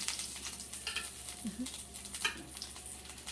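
Meat searing in a hot pan for potatoes au gratin in a tiny home kitchen, a steady, low, continuous sizzle with light stirring scrapes and no talk.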